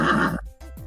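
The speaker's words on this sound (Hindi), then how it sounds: "यह आवाज तो घोड़े की है।" A horse gives a short, loud neigh up close, a single whinny with a snorting tail.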